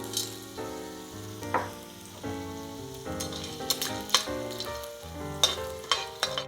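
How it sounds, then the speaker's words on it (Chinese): Rock sugar stir-fried with garlic cloves and ginger slices in hot oil in a wok, a steady sizzle with scraping stirs, under prominent background music. "再加入冰糖炒糖色"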